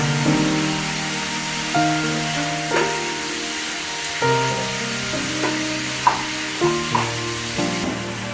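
Chicken pieces fry in butter in a pan over high flame, crackling and sizzling steadily and loudly throughout, with occasional scraping stirs and faint background music.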